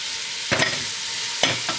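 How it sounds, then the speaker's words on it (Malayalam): Cooked chicken pieces are stirred into a pot of Kerala-style chicken soup: two short scraping stir strokes rise over a steady, soft background sizzle, with no voices. "ഇതെല്ലാം കുറച്ച് നന്നായിട്ട് മിക്സ് ചെയ്യാം"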